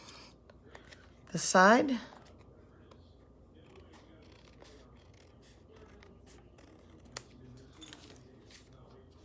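Scissors cut through card paper once in a short, loud snipping burst near the start, then quiet handling taps and faint rustling follow, with a brief spoken word.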